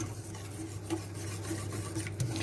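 Rabbit stew ingredients with salty smoked lardons are stirred together in a pot, a soft scraping, rubbing motion repeating at close range over a low steady hum, with no talking.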